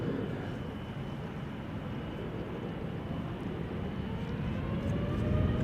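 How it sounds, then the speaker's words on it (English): A KLM Boeing 787-10 Dreamliner, two years old, departs Amsterdam Schiphol bound for San Francisco, its engines a steady broadband roar that builds slightly louder toward the end, with no talk over it. "This is KLM Flight 605 to San Francisco. 787-10 Dreamliner, just like the one we saw just now."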